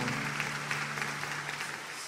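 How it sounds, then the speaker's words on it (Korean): A church congregation applauding during a Korean Sunday worship service, a soft, continuous patter of many hands clapping at a distance, with a low hum underneath. "우리 박수로 서로 격려하고 축복하겠습니다."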